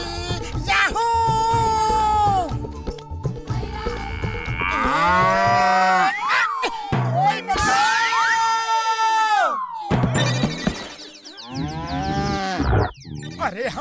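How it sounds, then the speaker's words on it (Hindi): A cartoon buffalo in Motu Patlu lets out several loud, drawn-out bellowing moos in succession, with brief pauses and some shouting between the calls. "अरे हम जिंदा हैं या यमराज का भैंसा हमें लेने आया है?"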